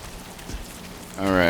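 Rain falls in the video game Death Stranding 2 as a steady, soft patter that grows louder near the end, when a voice comes in over it.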